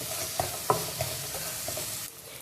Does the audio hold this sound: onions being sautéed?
yes